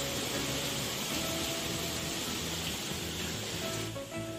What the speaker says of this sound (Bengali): গাছগুলো যেহেতু হাওয়ায় নড়ছে তাই জন্য দেখুন কি আওয়াজ হচ্ছে